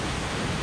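Sea waves washing onto Sagareshwar beach near Vengurla, a steady, full hiss of surf that fills the whole moment without pause.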